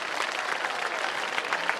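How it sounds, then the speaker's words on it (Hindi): Two teams of students at a school alumni meet clap for each other, a brief moderately loud burst of crowd applause with no talk over it. "अब दो ही टीमों के लिए एक दूसरे के लिए ताली बजाओ।"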